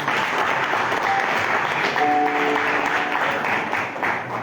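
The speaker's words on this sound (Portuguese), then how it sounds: "Pode aplaudir aí, irmão." Dense, sustained applause from a church congregation at the end of a worship service, loud and close throughout, with a brief voice or tone rising through the middle.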